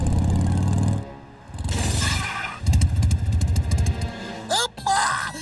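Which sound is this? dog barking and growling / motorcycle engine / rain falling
motorcycle engine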